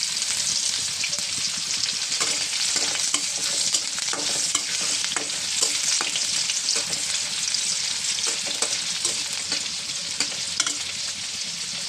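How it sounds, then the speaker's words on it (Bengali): Garlic and onion fry in hot oil with dried chilies, a steady loud sizzle with crackling pops and occasional stirring scrapes running throughout, close and alone with no voices. "তেল গরম হয়ে গেছে, শুকনো মরিচ দিয়েছি, এবারে রসুন আর পেঁয়াজটা দেবো"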